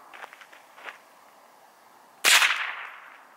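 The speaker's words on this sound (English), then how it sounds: "we're going to be firing from only about 7 yards away using my Ruger" A Ruger 10/22 rifle fires a single Federal .22LR round at a paper target about seven yards off, one sharp close crack with a short decaying tail after a few quiet shuffles.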